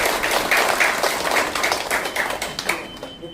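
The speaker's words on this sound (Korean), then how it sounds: "큰 박수 한번 부탁드립니다" Scattered applause rises from a small audience at a launch ceremony for a Korean digital-asset victim-prevention association. Moderate clapping runs steadily for a few seconds and then thins.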